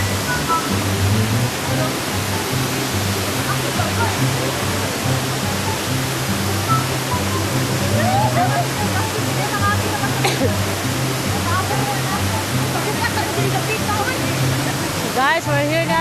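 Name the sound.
waterfall at Barili falls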